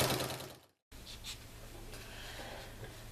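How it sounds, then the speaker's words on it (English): A domestic sewing machine stitching binding onto a quilt, quiet and close, with a brief stop and then a steady, even mechanical whirr. "And then you can just go ahead and sew."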